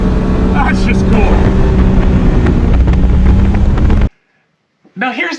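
Loud, steady engine and exhaust drone from a JDM kei sports car, such as an Autozam AZ-1, Honda Beat or Suzuki Cappuccino, continuous for about four seconds, then a sudden cut to silence, with a brief voice at the end.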